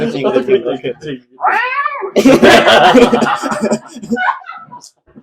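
A cat meows and caterwauls in a tense, frightened group setting during a holiday trip, with rising, drawn-out cries in the middle, surrounded by loud overlapping talk and some chuckling.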